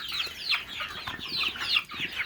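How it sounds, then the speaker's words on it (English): Bantam chickens clucking inside a barn on a windy day, a steady run of close, busy clucks and chatter over a couple of seconds with no talking. "We have a hungry chicken here. Oh, there's another bantam."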